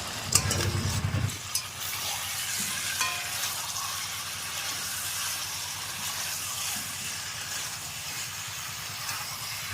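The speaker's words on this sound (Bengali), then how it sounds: "চিকেনটা দিয়ে দিয়েছি খুব ভালোভাবে নাড়াচাড়া করে নিয়েছি" Marinated chicken fries in a reduced spice paste in a pan, with a loud burst of stirring and scraping at the start, then a continuous close, even sizzle with occasional faint clinks.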